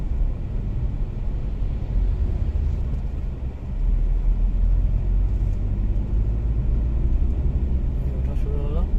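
A car's engine labours uphill in second gear on a hill road from Lucknow to Nainital, a steady low droning rumble with road noise under in-car talk.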